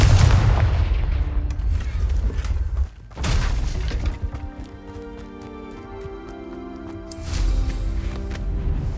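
Confringo explosive spell cast in Hogwarts Legacy video game, several loud booming bursts with crackling debris, separated by quieter stretches of ringing game ambience.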